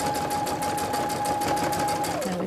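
A sewing machine stitches a tote bag handle with a steady, continuous whirring hum that runs for the whole short stretch without talk.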